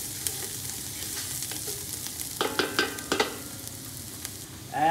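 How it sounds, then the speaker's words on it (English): Garlic and cloves sizzle and fry in a pot, a steady close crackle broken by a few sharper stirring clatters near the end, with no voices. "And then you just want to saute this for another minute."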